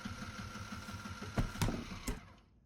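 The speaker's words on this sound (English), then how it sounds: "Each patch was then sewn with a single zigzag stitch." A sewing machine runs close and moderately loud, zigzag stitching patches onto a gaff mainsail, with a few sharp clicks before it winds down and stops.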